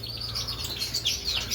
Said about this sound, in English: Java sparrows.